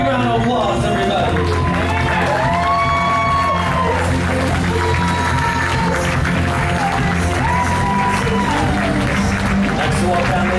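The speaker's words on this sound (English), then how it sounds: "Give her a big round of applause, everybody." Wedding guests applaud the bride's entrance at a reception, steady crowd clapping and cheering mixed under loud music and an announcer's voice throughout.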